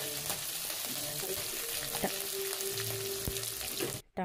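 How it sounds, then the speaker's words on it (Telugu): Tomato puree frying in a pan with onions and green chillies, a steady close sizzle with occasional stirring scrapes and clicks throughout. "ఉల్లిపాయ పచ్చిమిరపకాయలు బాగా వేగాక టమాటా ప్యూరీ కూడా వేసేసేయాలండి."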